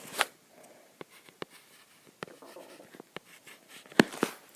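Pen or pencil on paper drawing a factor tree by hand, faint scratchy strokes and a few sharp taps scattered across a quiet room.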